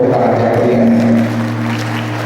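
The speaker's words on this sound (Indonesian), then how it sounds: "Kita beri tepuk tangan yang meriah." An audience claps at a Palembang city government development planning forum; a dense burst of applause swells for about a second, then thins and fades to scattered clapping.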